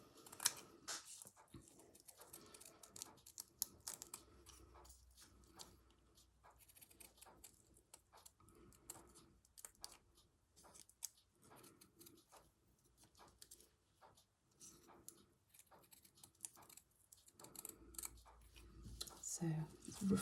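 Scissors roughly cutting fabric for a slow-stitch embroidery collage: faint, irregular snips and clicks, close and quiet, with a voice heard softly at times.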